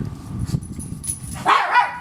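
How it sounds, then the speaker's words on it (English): Several dogs bark excitedly indoors, a few sharp yaps and a higher yelp near the end, moderately close without talk over them. "The dogs went crazy."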